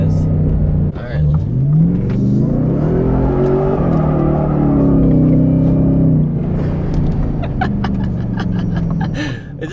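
A 2023 Ford F-150 Raptor R truck engine roars and revs while drifting, a loud, sustained growl that climbs and falls in pitch, with people talking and laughing over it.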